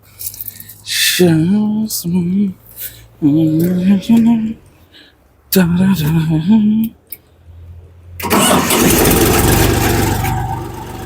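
The diesel engine of a Xingtai 244 L tractor, a 2023 build of the 2024 design, cranks and catches near the end, then runs loud and rough at close range after someone talks over a quieter idle.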